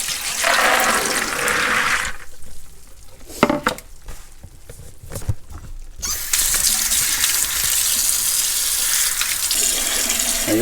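Tap water gushes and splashes loudly into a sink as soaked white navy beans are rinsed, with a quieter lull in the middle before the flow surges strongly again.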